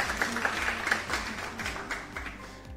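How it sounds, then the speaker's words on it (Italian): A canned applause sound effect on a live digital show, a moderate wash of clapping running under faint low rumble and fading toward the end. "L'applauso!"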